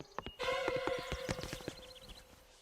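Cartoon horse hooves clip-clop in a quick, steady run of sharp knocks, with a bright musical tone ringing underneath and a short busy burst of sound partway through.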